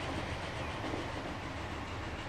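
Steam locomotives, including a New York Central engine and Mallard, race while hauling heavy freight on the Gotthard map in Transport Fever, giving a steady, loud rolling rumble with rail clatter throughout.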